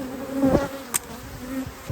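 Honey bees buzz around an opened beehive during a honey harvest, a close, continuous drone with a few louder passes as individual insects fly near.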